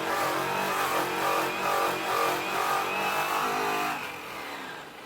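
A buffing wheel fitted with an orange buff and brown compound runs against an acid-washed aluminum wheel, giving a steady loud motor whine with slight rhythmic swells that drops away near the end.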